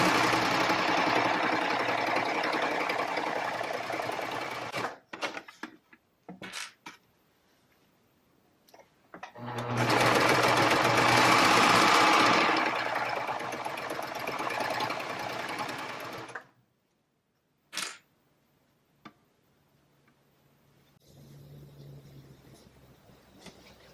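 Serger sewing machine stitching through layered placemat fabric, running in two long steady whirring stretches near and loud, with quiet gaps, clicks and handling noise between them.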